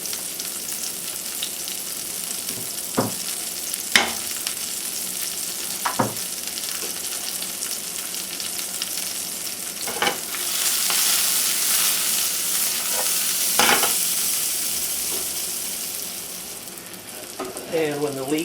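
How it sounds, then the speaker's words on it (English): Leek and garlic sauté in olive oil with a steady, fairly loud sizzle, broken by occasional spoon scrapes and taps, rising briefly in hiss midway, close up and without talking. "We start by sauteing a leek and a little garlic."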